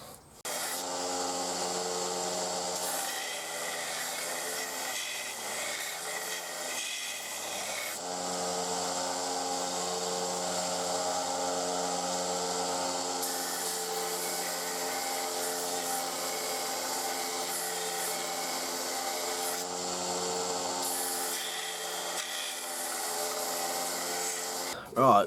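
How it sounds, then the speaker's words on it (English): A grinder shapes the handle of a small bushcraft knife, giving a sustained abrasive whine and rasp with shifting pitch as the piece is pressed and moved, steady and close throughout. "I'll basically just shape it in the grinder for some parts"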